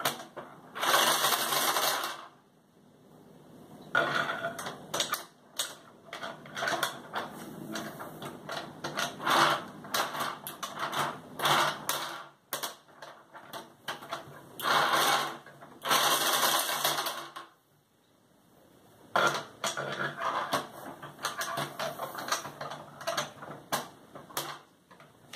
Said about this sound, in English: the gears skip on the underside of the rack